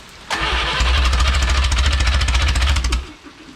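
An original Renault 4CV engine is cranked by its starter, giving a loud, rapid, even chugging that lasts about three seconds before cutting off, close up and with no talk over it.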